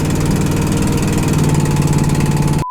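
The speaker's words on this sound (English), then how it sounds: "we have that awful ticking sound coming from the engine" Vintage RV engine idling close and steady with a fast, even ticking running through the drone, then cutting off abruptly at the end.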